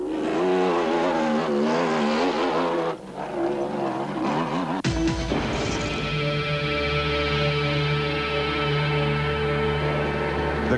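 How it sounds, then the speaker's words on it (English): A single-seater race car engine drones and revs during the 1997 Sugarbelt 400 off-road race, a sustained steady roar that shifts pitch partway through before settling into an even, loud tone. "another typically steady drive from Richard Carolan had seen him scythe his way through the field in a single-seater"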